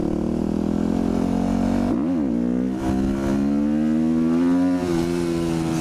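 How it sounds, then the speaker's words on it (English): Motorcycle engine revving hard through a wheelie, a loud close steady roar whose pitch dips and climbs as the throttle is worked, with no talk over it. "Slightly better wheelie for the kids only."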